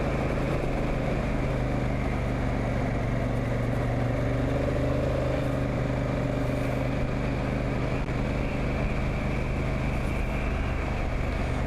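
Honda Africa Twin motorcycle engine droning steadily while riding on a road near Lake Tinaroo, a continuous close hum mixed with wind rush and no talking.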